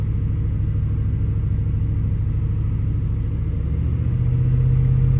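A 1998 Ford F-150 engine runs rough and lean at about 1500 RPM, a steady close-up low rumble with a pulsing, slightly uneven beat and no voices.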